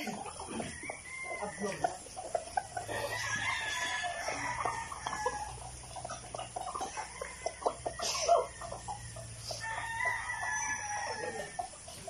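Chickens, fighting cocks fed for a derby, cluck and crow around a morning feeding, with rooster calls rising over steady farmyard clucking and faint voices talking in the background.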